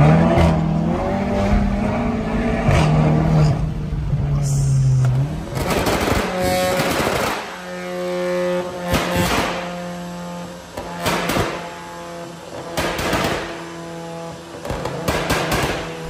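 A Volkswagen Jetta GLI with the EA888 engine, running on a mix of ethanol and gasoline, revs repeatedly in sharp bursts close by, loud and without speech.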